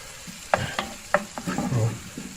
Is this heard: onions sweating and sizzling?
yes